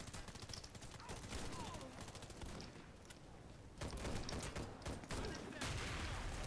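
Rapid gunfire from a co-op match of the shooter Warface, loud, dense bursts of automatic fire running continuously with a heavier stretch near the end.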